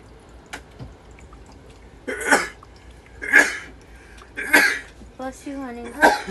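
A person close by lets out four sharp, harsh sneeze-like bursts spaced about a second apart, with a brief voiced sound between the last two.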